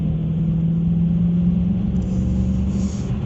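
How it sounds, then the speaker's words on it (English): An SRT muscle car engine under light throttle climbing a hill, a steady deep rumbling drone heard from inside the car, loud and even with no talking. "just barely giving it throttle to go up this hill without any issues at all"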